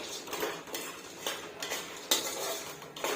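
A spoon scrapes and stirs lentils with turmeric in a pan for makhana chivda, in repeated strokes, with a faint sizzle underneath, close by and without talk.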